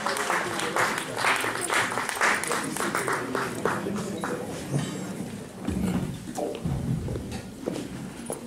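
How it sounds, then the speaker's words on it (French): Audience applause at a Congolese community gathering, sustained clapping from a crowd filling the whole stretch, with voices and cheers mixed in and a brief dip midway before it swells again. "Mais les applaudissements encore, s'il vous plaît."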